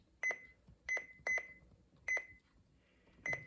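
Five sharp electronic beeps sound at irregular intervals, each a short high tone with a click, from button presses on a weather radio, in a quiet room.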